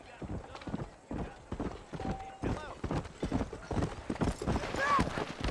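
Horse hooves clip-clop at a brisk, even rhythm in the Red Dead Redemption video game, loud and close, with a brief whinny-like cry and game voices talking over it.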